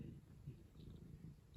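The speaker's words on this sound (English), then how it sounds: "He's purring and making biscuits." A cat purrs softly in a low, steady rumble while kneading on a lap, a quiet continuous drone alone without talk.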